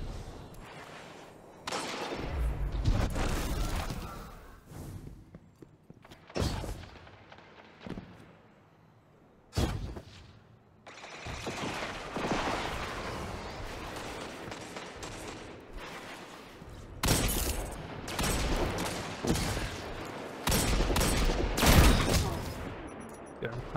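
Shotgun blasts in a first-person shooter, sharp heavy booms scattered irregularly across the stretch with quieter gaps, footsteps and brief talk between the bursts.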